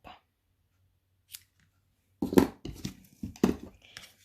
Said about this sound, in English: let me bring my snips in. And we will snip.